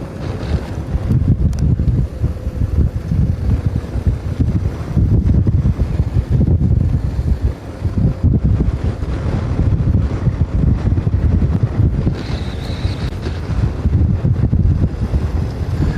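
Strong crosswind roars and buffets the microphone during a men's elite bicycle race in Johannesburg, a continuous loud rumbling gust with no voices.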